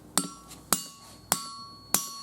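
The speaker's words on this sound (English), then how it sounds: "I just use this 4-pound hammer." Four sharp, ringing metallic strikes of a 4-pound hammer on horseshoes over an anvil, worked cold without heat, evenly spaced about half a second apart, loud and close with bright decaying ring between blows.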